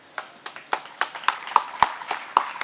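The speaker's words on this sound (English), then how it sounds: "Another round of applause, please, for Dr. Khosla." Audience applause after a talk on entrepreneurship and sustainable growth, heard as sparse, evenly spaced individual claps, close and fairly faint, more like a few people than a full crowd.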